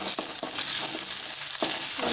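Chopped tomato, green chili and onion sautéing in a hot pan, a continuous close sizzle broken by a few sharp scraping stirs.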